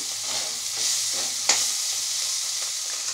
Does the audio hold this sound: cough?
no